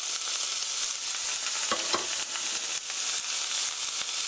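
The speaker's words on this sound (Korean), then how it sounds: "3분 정도 볶아주세요" Chopped onions, welsh onions and bell pepper stir-fry in a pan with a dense, even sizzle and a couple of soft spatula scrapes, close and steady.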